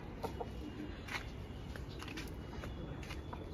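Columbian Light Brahma hens cluck in short, scattered bursts over a steady low background, with occasional brief louder calls; no one speaks.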